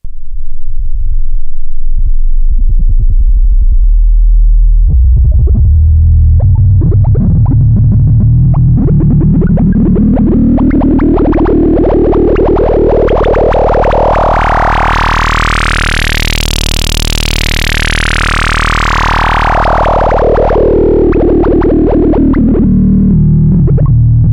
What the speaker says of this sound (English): We're going to turn starve up and play a low note and sweep the filter.